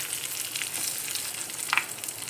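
Curry leaves and a little turmeric dropped into overheated oil, giving a steady soft sizzle and crackle with a few brief louder pops, close by and without talk.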